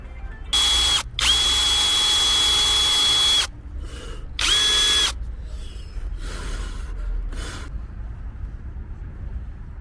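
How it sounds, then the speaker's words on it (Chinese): An electric drill whirs in two loud bursts, each a few seconds long, then quieter clicks and scraping of handled tools follow, while working on a Ford car engine with a snapped bolt. "我先拿电钻给你试一下吧，看看给它取出来。"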